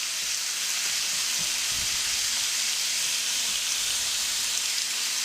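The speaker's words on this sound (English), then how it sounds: "Y'all hear that sizzle?" A steady, close hiss of steak sizzling on a hot grill, constant throughout with a few faint low thumps early on.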